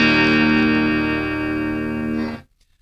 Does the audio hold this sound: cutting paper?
no